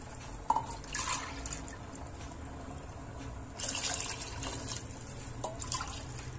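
Water poured from a glass onto rice and vegetables in a pot for Malnad-style vegetable pulao, with soft splashing and dripping pours, fairly quiet and close.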